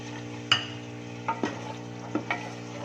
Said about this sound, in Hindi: अभी ये प्याज मैं इसमें डालूँगी और प्याज को हमने हल्का ब्राउन करना है